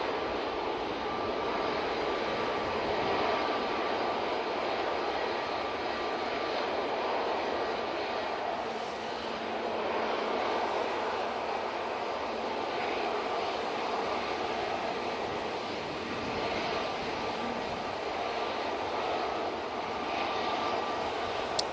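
An Airbus A321neo takes off from Manchester Airport bound for Corfu, a sustained, moderately distant jet rumble that rises and falls gently over the whole span, with no talk.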